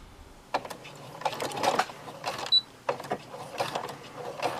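A home sewing machine runs in short stop-start bursts while elastic is stitched onto pajama pant bottoms, close mechanical whirring broken by pauses and small clicks.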